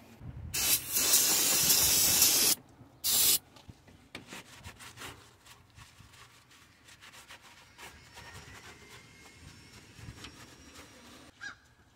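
Aerosol can of starter fluid sprayed onto a Toyota RAV4 2.4L valve cover during gasket replacement: two loud hissing bursts near the start, the second short, followed by quiet handling and rubbing noises.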